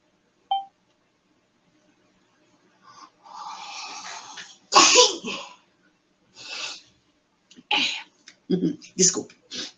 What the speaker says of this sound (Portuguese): um espirro querendo atrapalhar